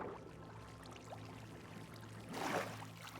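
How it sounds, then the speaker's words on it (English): Faint water sloshing from a Minecraft character moving through water, with a quiet murky background and one brief, fuller splash near the end. "I'm just splashing around in the deep dark"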